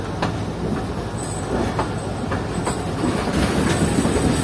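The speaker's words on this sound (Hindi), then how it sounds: "तो रुकते ही चल रही है हमारी ट्रेन बुलारी रेलवे स्टेशन से।" Train pulling out of Bulari railway station down a slight gradient, wheels clicking and squealing on the rails with a steady rumble, heard from on board, close and continuous.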